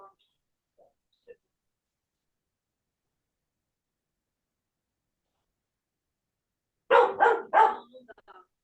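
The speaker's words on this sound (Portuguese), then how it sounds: "Se não vai ficar latindo assim." A quick burst of three or four dog barks near the end, after a long stretch of near silence.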